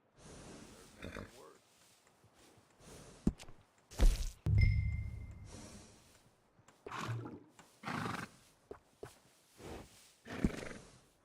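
A horse in the Red Dead Redemption 2 video game gives a loud, roaring neigh midway, with a few sharp knocks around it and game dialogue before and after.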